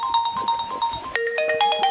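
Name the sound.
phone ringtone, incoming call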